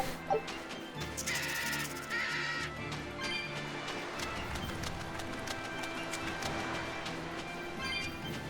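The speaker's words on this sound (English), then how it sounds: "Yes, they are romantic birds." Birds caw repeatedly in a game scene from Tales of Berseria, the harsh calls scattered over a busy background of ambient game sound at moderate volume.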